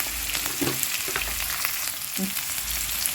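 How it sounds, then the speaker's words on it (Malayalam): A single onion sautés in a pan with a little salt while a mutton curry is made, giving a steady close sizzle with a few soft stirring scrapes and no talk. "ഒരു സബോള നന്നായിട്ട് സോട്ട് ചെയ്യുക"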